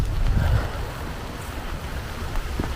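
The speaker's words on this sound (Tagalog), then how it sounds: "Napakalakas ng hangin" Strong wind during nonstop rain buffets the microphone with a low, rumbling roar that gusts heavier at the start, with a faint wash of water in the background.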